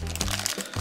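A small plastic packet being opened from a toy-doll unboxing, crinkling and crackling close up in quick bursts over a steady musical background.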